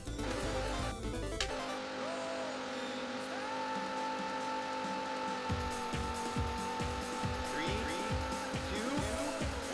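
Racing cars from a video game roll toward the start with a steady engine drone and tire squeals, and rhythmic mechanical pulses join in later, all loud and continuous under a person talking.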